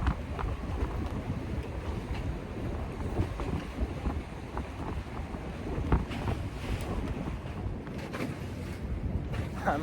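Strong wind gusts steadily over the microphone out on the water during cold, frigid perch fishing, making a constant loud buffeting rumble with faint splashing beneath and no voices.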